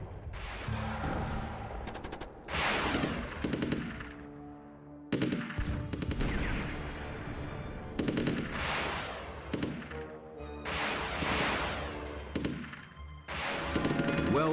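Battle gunfire in the Rise of Nations video game, with dense rattling bursts of machine-gun and rifle fire mixed with heavier booms, sustained and overlapping throughout.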